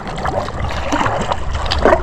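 Kayak paddle strokes on Lake Tahoe near a pier, with soft splashes and water gurgling against the hull, continuous and close by with no talking.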